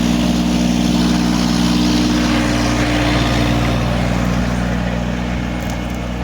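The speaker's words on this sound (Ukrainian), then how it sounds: "Ось так тракторець сам орить." A tractor ploughs a field on autopilot, its engine giving a loud, steady, close drone with a strong low hum and constant mechanical rumble that does not let up.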